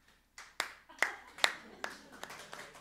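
A lone audience member in a comedy show hall claps slowly and unevenly, about eight separate sharp claps with gaps between them, standing out against a quiet room.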